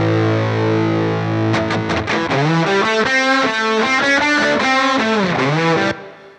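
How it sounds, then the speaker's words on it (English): Two distorted electric guitars playing a solo with a touch of reverb, loud and sustained, with bent notes and quick picked runs before a ringing final note fades. "this is just the solo guitars with a touch of reverb"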